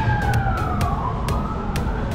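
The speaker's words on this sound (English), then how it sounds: "We'll hear some sirens" Emergency sirens wail with sliding, rising-and-falling tones over steady traffic rumble, with a few sharp bursts cutting in at intervals.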